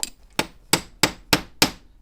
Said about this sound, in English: And you're going to hammer the end.